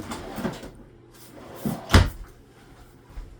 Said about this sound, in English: Underneath, there's a pot and pan drawer.